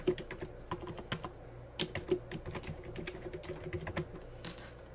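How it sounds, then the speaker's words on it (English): Keystrokes on a computer keyboard while entering address details into QuickBooks accounting software: a steady, close stream of quick taps in uneven bursts, with no talking. "And we can type in the address."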